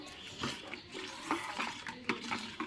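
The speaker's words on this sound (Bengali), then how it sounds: "ভালো করে নাড়িয়ে নেব" Wood apple juice mixed with milk is stirred in a container, giving repeated soft liquid swishes and light clinks against the sides in an uneven rhythm, close and fairly quiet, with no speech.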